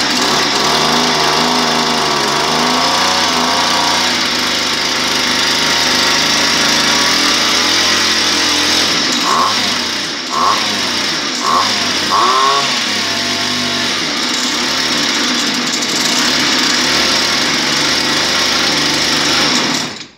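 A Stihl brush cutter engine runs loud and steady throughout while being adjusted, its two-stroke drone holding nearly constant, with a brief dip and a few faint tonal blips midway.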